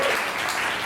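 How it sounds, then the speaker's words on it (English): Audience applause at an evening showcase, a dense steady wash of many hands clapping, moderately loud and continuous without speech. "Give yourselves a round of applause."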